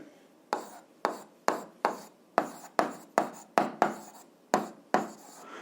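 A pen scratches an answer onto paper during a physics exercise, about a dozen crisp, evenly spaced strokes, each a short rasp that fades quickly, close and clear against silence.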